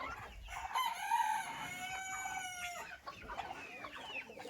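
Chickens in a small backyard flock cluck and call, with a rooster's drawn-out crow standing out in the middle, fairly close but soft amid a quiet farmyard background.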